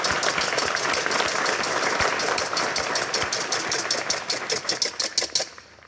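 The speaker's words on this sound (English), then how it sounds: "Round of applause." The studio audience of MasterChef Australia applauds: brisk, fairly loud clapping with a rhythmic, almost mechanical pulse. It thins into scattered separate claps before dying away.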